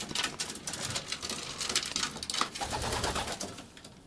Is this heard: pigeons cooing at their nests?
yes